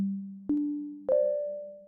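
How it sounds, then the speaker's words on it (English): Three plucky pad synth notes from a Massive X preset in FL Studio, each with a sharp attack and a smooth sustained tail, rising in pitch one after another, clean and alone. "It's like a nice plucky paddy type of sound, and I got it from Massive X."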